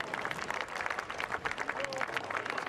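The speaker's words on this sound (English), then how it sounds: "The crowd go nuts for this horse" A racecourse crowd at York applauding the racehorse Frankel, dense sustained clapping and cheering from many people, moderately distant and steady throughout.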